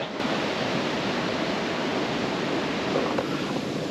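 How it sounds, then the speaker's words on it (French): A small waterfall at a bubbling fountain outdoors gives off a steady, dense rush of falling water, constant and fairly loud throughout with no voices. "j'ai une sorte de petite cascade, un petit quelque chose"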